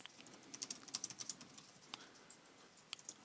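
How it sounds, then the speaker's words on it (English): Quiet, close keystrokes tap on a computer keyboard while a reply is typed into a chat field. A quick run of irregular clicks comes first, then a few scattered taps and a pause. "Just clicking into the reply field and continue typing."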